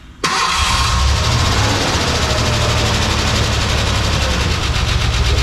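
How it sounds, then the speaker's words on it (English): A Ford Bronco II truck engine cranks, catches and settles into a loud, steady, noisy idle with a fast rhythmic ticking from the valve lifters, close up and without talk. "this truck might have a bit of a lifter tick, but he said the engine was just fine. Sounds pretty noisy to me."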